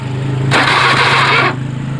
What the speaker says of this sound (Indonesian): saya tekan lagi starternya